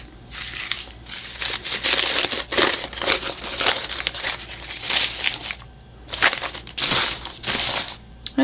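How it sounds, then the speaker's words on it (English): A paper bag is repeatedly crushed and crumpled close by, loud bursts of crinkling and crackling in uneven waves separated by brief pauses, with no voices. "I'm just gonna start by crumpling up my paper bag."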